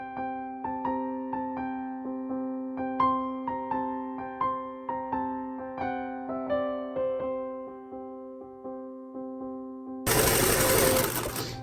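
Sewing machine stitching around the edge of a fabric shawl with a very small stitch length, a near, rhythmic run of rapid stitching bursts that slows and stops, followed by a brief louder rustle.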